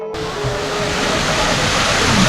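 A waterfall at Riyadh museum park pours in a dense, steady roar of rushing water, close and loud, rising slightly in level throughout with no talk.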